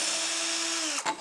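A countersink drill bit bores into wood with a short, steady high whine, then slows and cuts off at the end of the brief burst.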